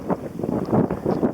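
Strong wind buffets a sailboat during the Everglades Challenge, gusting in rough, rumbling pulses close to the microphone with no talking.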